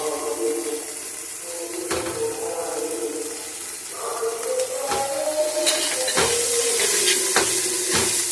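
Coconut paste and paneer filling are stirred in a hot pan, a continuous sizzle broken by several sharp spatula scrapes and knocks against the pan.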